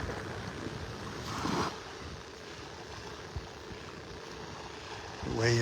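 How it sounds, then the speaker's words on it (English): At high tide, waves ripple over a sandbar off a beach in North Naples, Florida, making a continuous rushing wash with a low wind rumble and brief swells in loudness. "The waves rippling over the sandbar out there."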